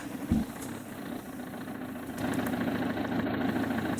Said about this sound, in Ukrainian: Трактор вже завівся хоч щось хороше